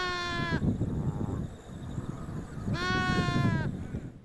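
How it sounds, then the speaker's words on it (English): Sheep bleat twice on a flooded Victorian farm where ewes have been lambing, a long wavering call at the start and another after a quiet gap, both close and clear over low rumbling background noise. "farmer Doug Holmes and his son Neil are checking on the sheep"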